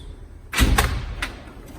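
A drawer on a new Snap-on tool box, holding pliers, slides open with a loud rolling rush and a thump at the end, followed by a short metallic rattle of the tools inside.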